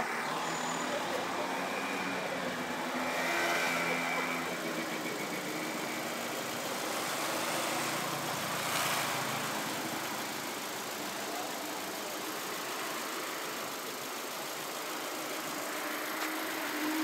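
A 33-year-old Renault 4 GTL idles outdoors in Croatia, its steady engine hum sitting low and even for the whole stretch under broad roadside noise, with voices talking at moments.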